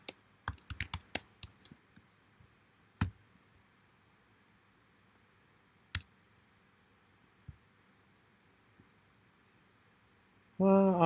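Computer keyboard typing in a lecture room setting, a flurry of quick clicks at the start and then sparse isolated taps, fairly faint against a quiet background, followed by a brief louder burst at the end.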